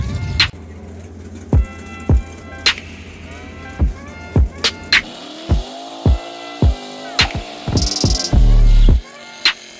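A super gas dragster at an NHRA drag strip event in Brainerd: a steady engine drone with scattered sharp clunks, rising revving tones, then a brief, loud roaring burst near the end.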